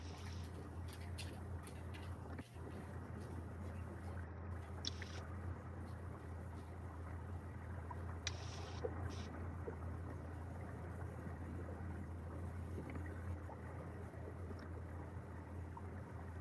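A boat motors slowly along the Tennessee River during a catfishing trip, giving a faint, steady low engine drone that continues unchanged under quiet ambient noise.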